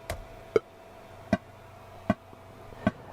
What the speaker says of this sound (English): we make a click track and it sounds like this